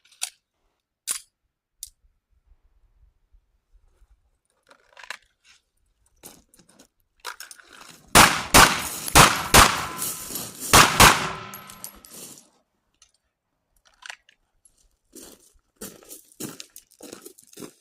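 A pistol cocked and fired at a practice range with Blazer practice ammo: sharp metallic clicks and handling, then a loud cluster of rapid gunshots in the middle, followed by more scattered clacks of the gun.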